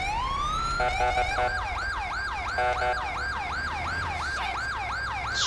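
Ambulance siren from GTA 5 played with a 112 ambulance mod, a loud steady wailing sweep that rises, then shifts to a rapid repeating yelp pattern, heard alone without talk.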